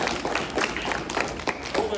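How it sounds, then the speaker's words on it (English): A small school assembly audience applauds, producing steady scattered clapping that continues throughout at moderate distance without a clear peak. "let's give them a big round of applause."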